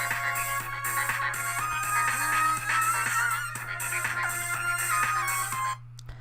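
A short, bright electronic song preview plays as a reward track in the SwopBots coding video game, with a steady low drone under a busy looping melody, fairly quiet and alone before cutting off abruptly near the end.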